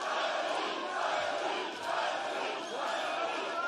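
Large crowd at the Thor vs Eddie Hall grudge boxing match roars and chants continuously, a loud dense wall of voices rising and dipping slightly.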